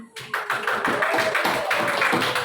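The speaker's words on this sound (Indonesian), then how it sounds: "Coba diri, kasih tepuk tangan." A classroom group claps together in steady, dense applause that starts abruptly after a brief pause and stays loud and close throughout.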